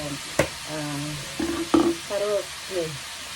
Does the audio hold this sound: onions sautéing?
yes